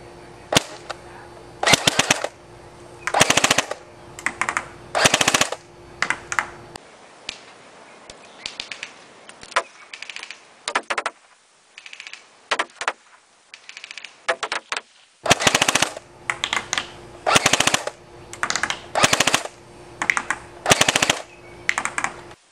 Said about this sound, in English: show you the kind of grouping improvement that you can see using the heavier BBs. Firing at the top target.